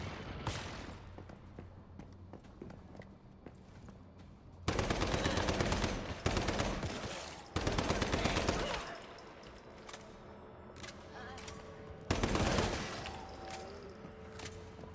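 Bursts of gunfire in the video game Once Human, several loud sustained volleys of rapid shots separated by quieter stretches of ambient game sound.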